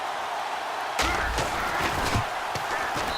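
A field goal kick in Madden NFL 17 from the left hash, a sharp thump near the start followed by a few more soft impacts over a steady stadium crowd roar.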